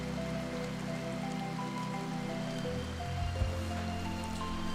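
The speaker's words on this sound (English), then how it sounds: "somebody's being rained on because they didn't build a fucking roof." Steady rain hisses and patters in the colony-building video game RimWorld, a continuous wash of noise under soft, sustained background music.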